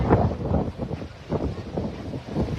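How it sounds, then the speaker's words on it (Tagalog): Strong wind in Oroquieta City buffeting the microphone in low, rumbling gusts that surge and fade in irregular pulses, loud and close with no other sounds. "kusog kaya ang hangin"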